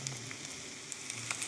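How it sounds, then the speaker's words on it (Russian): Steady close sizzling and spitting of lazy pirozhki pastries frying in a hot pan, with small pops scattered throughout. "Вот так жарятся наши ленивые пирожки."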